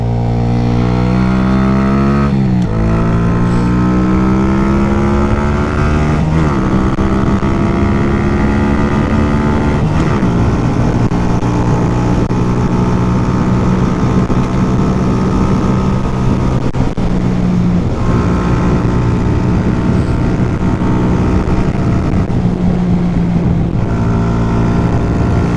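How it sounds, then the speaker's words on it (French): A Masai Greystone 125 urban motorcycle revs up hard, its exhaust note rising in steady pitch sweeps and dropping back between throttle blips, loud and close throughout with no talking. "Vraiment, ce son du pot est vraiment sympa"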